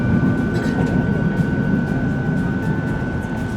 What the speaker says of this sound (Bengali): তারপর আবার ট্রেন ছেড়ে দিয়েছে।